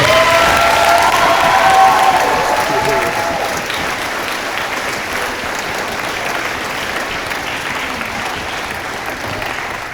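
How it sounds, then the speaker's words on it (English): Applause from an audience at a high school boys' volleyball provincial championship gold medal presentation, steady broad clapping that rises to a peak early on, then settles into a softer, sustained ovation for the rest of the span. "Have a round of applause."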